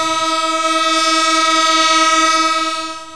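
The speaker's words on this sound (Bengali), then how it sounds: "দিনে প্রায় সব ট্রেনই ছেড়ে গেছে নির্ধারিত সময়" A train horn at Kamalapur railway station sounds one long, loud, sustained blast that fades slightly toward the end, with no speech.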